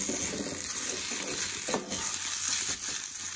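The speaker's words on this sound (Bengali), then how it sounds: "এবার আমি এটাকে ভালোভাবে নাড়িয়ে নেব।" Close-up stirring of chicken curry in a hot frying pan, a steady sizzle with scraping and clinking from the spoon, no voices.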